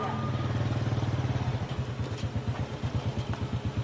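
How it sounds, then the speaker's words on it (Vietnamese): Motorbike pressed into service to carry an emergency patient, its small engine chugging in a fast close putter that shifts to uneven pulsing as it pulls away. "Không có xe cứu thương cho nên phải dùng xe máy."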